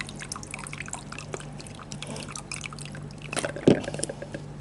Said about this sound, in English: Okay, now again, I have to rinse this very well.